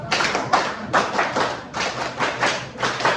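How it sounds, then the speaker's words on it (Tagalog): A class clapping in a set rhythmic cheer, with about seven loud, evenly spaced bursts of hands striking together in unison, close and punchy, with no talking. "mangyaring bigyan siya ng labing isang palakpak"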